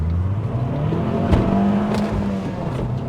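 An Abarth Punto Evo 1.4 turbo hatchback accelerates hard on a public road, its engine note climbing steadily for a few seconds, close and fairly loud, with no talking.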